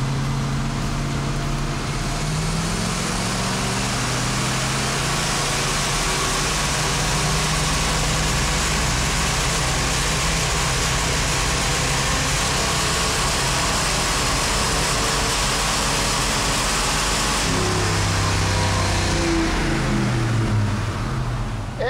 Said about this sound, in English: It didn't like a wide open throttle. Nah, it was a little rough. Definitely starting to miss there.